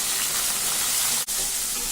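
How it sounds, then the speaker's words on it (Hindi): Tomatoes frying lightly in hot oil in a kadhai for kadhai paneer, a continuous bright hiss that stays loud and even, broken by one brief dropout. "अब इसमें टमाटर को भी हल्का सा फ्राई कर ले रहे हैं।"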